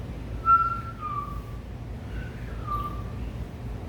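A human voice whistles an imitation of the kokila (Indian koel) song: a few clear rising and falling whistled phrases with gaps, moderately close over a low room hum.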